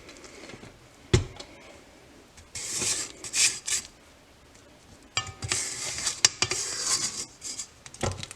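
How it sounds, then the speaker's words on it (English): A spatula scrapes and knocks around a mixing bowl of sugar cookie dough, with intermittent rubbing bursts and a few sharp clinks, close and moderately loud, with pauses between strokes. "I'm going to scrape it down one more time."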